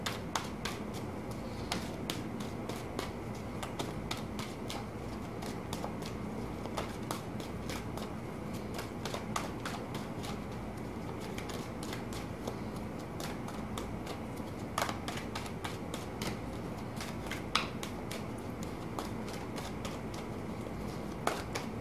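Cards are shuffled and riffled repeatedly at close range, with rapid crisp flicking bursts that continue steadily throughout.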